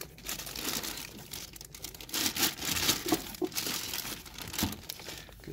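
Plastic packaging crinkling and rustling around a brand-new DeWalt DCF890B 3/8-inch impact wrench, continuous close crackling with irregular louder crunches.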